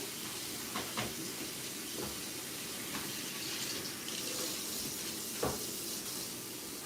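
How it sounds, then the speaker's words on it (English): Tap water runs steadily into a kitchen sink to soak dirty dishes, a constant quiet hiss and rush with a few small knocks and clinks of dishware. "I'm just making a little bit more water, guys, so I can soak these dishes"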